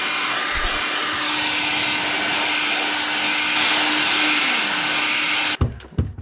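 A heat gun blows steadily and loudly while warming the glue joint between two PVC pipe fittings, a continuous airy roar that cuts off abruptly near the end, followed by a few handling knocks.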